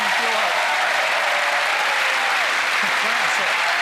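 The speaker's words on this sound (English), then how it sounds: "A nice round of applause for gentlemen." A television studio audience applauds steadily, a dense wash of clapping that holds at an even level from start to finish.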